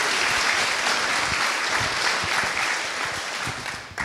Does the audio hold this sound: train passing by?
no